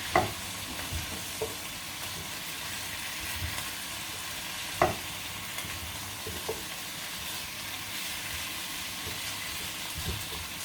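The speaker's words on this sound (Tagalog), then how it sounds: "Then, igisa lang natin ng konti." Chicken feet sautéing in a pan, a steady sizzle with occasional scraping stirs and clacks of a utensil throughout, close and continuous.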